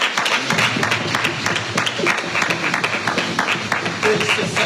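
Church congregation applauding and cheering the Lord after a prayer, a dense steady wash of clapping lasting throughout, with voices mixed into the crowd noise.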